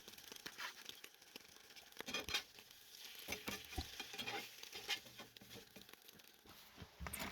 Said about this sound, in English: crack the eggs in, and then I just move them around a little bit